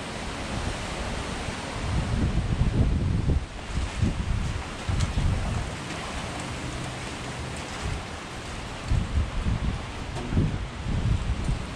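Strong gusting wind blows outdoors ahead of a major storm, a broad steady roar with heavier buffeting surges that rise and fall throughout.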